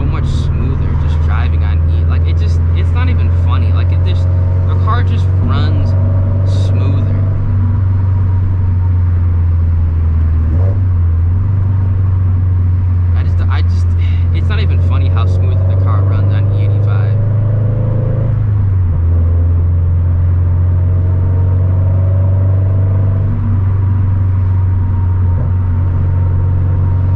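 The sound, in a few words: Scion FRS car on E85 tune driving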